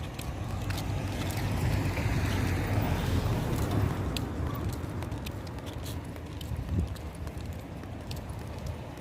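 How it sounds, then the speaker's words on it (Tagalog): Gusty wind rumbles and buffets the microphone during a walk outdoors, with a few faint clicks in the background. "The wind's back."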